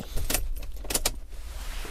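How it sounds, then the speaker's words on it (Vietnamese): The original key of a 2012 Toyota Fortuner jingles close up, with bright metallic clinks in quick bursts over a low rumble. "Chìa khóa zin của xe anh chị nhé."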